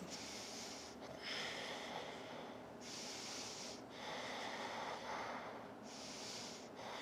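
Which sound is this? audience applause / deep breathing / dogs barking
deep breathing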